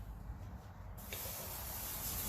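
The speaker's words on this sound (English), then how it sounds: "So we're going to give that a good spray." Cooking oil is sprayed onto a smoking-hot Camp Chef Explorer griddle in a garage: a faint background hum, then a sudden loud, sustained hiss of spray.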